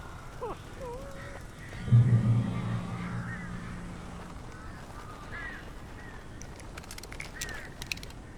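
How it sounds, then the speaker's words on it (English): Crows caw several times in the video game Alan Wake Remastered, scattered calls over a low ambient bed with a brief deeper honking sound, at moderate distance and fairly quiet. "These birds are weird."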